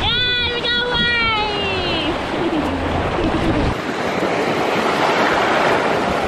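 Ocean waves wash steadily onto a Hawaii beach as a continuous loud surf roar, with a voice briefly heard at the start.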